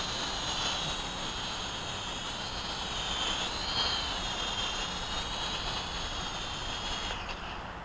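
A Syma X5C quadcopter drone flies nearby, its small motors giving a steady high-pitched whine that rises and falls slightly in pitch as it manoeuvres, fairly loud and continuous with no voices, fading a little at the end.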